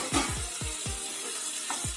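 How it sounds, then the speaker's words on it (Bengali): A utensil stirs boiled shredded chicken in white sauce in a pan, giving a series of close, scraping clicks at an uneven pace over a soft steady background. "চিকেনটাও এটার মধ্যে খানিকক্ষণ নাড়াচাড়া করতে হবে"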